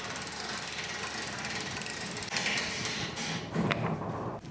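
The roof of a Coleman pop-up camper goes up on its crank lift system, giving a steady mechanical ratcheting and grinding that continues throughout. It is fairly quiet, with a few sharper clicks near the end.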